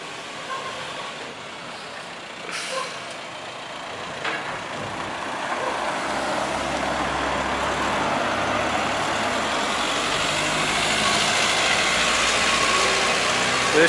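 A truck towing a trailer carrying a Nissan Skyline R33 rolls past and pulls away, its engine rising steadily from quiet to a broad, sustained rumble, with rattling mechanical clanks from the trailer.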